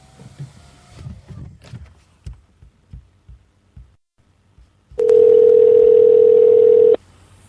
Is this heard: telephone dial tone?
yes